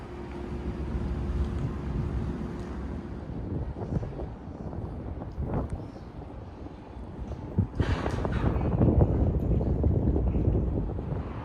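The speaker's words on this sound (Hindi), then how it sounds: "विंड बहुत स्ट्रॉन्ग है यहाँ पे" Strong wind buffeting the microphone at a cruise ship port in Valencia, Spain, a continuous rough low rumble with gusts that swell louder toward the end, no voices over it.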